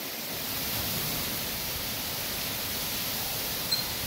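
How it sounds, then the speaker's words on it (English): A monsoon storm in Phoenix, Arizona roars with heavy rain and wind as a steady, hissing wash of noise, moderately loud and unbroken throughout, with no voices. "this is like hurricane weather."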